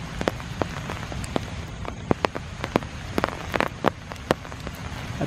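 Steady rain pattering on surfaces in a foggy park on a wet Sunday morning at Iroquois Park, with frequent distinct drops and splats standing out against a continuous soft hiss, no voices.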